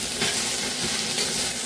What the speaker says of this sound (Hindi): मसाले को डाल के अच्छे से हम सब्जी में मिक्स करेंगे